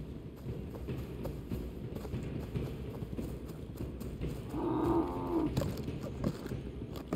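Horse hooves in Assassin's Creed 3 Remastered gameplay, a faint rhythmic clip-clop of a horse moving under game ambience, with a short burst of another sound midway.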